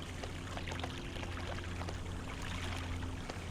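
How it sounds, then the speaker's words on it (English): Water splashes steadily from a fountain in the 2001 Xbox game Star Wars: Obi-Wan. The rushing, broadband sound sits over a faint low hum, with no voices. "the pitter-patter of footsteps or a fountain splashing"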